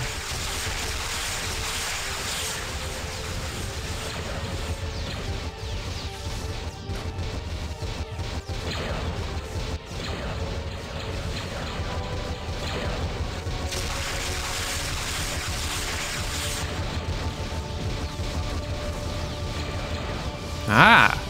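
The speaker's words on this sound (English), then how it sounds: "Those missiles are hitting." Missile and nuke strikes pound a starship during a Stargate SG1 Daedalus versus Star Wars Venator video game space battle, a dense, continuous roar of crashing impacts and rumbling blasts with a sharp burst at the end.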